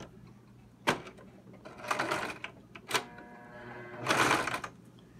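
Sewing machine stitching fabric for a jingle dress, with short whirring runs of stitching and a back stitch, separated by sharp clicks and pauses at close range.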